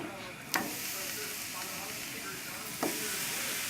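Eggplant slices cook in a pan with a constant close sizzle, broken by two brief scraping stirs, one early and one near the end.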